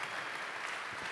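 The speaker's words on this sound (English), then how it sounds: "Give yourselves a round of applause." Brief burst of audience applause at a university family event, a dense continuous patter of many hands heard faintly from a distance.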